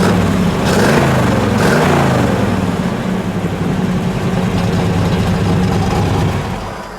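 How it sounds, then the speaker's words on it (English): A 1975 Chevrolet Camaro LT idles through dual exhaust, a loud, close, steady low rumble with a slight rise in throttle early on before settling into an even burble. "Dual exhaust sounds great."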